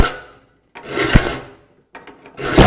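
A metal file rasps across the teeth of a rip hand saw in two distinct strokes separated by short pauses, close and loud, with a third stroke beginning at the end.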